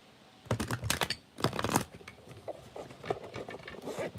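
Bursts of crisp papery riffling and soft slapping as tarot cards are shuffled by hand, close up, in a few separate rounds with quieter rustling between.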